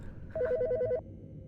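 In Autopsy Simulator, a telephone gives one short ring: a rapid, trilling electronic tone lasting under a second over a low background hum. No one speaks.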